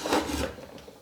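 Draw knife shaving dry pine in a short, close rasping stroke, a brief scraping rub of the blade across the wood that tapers off.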